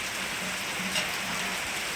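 Light, even rain patters in a soft constant wash, alone and without voices.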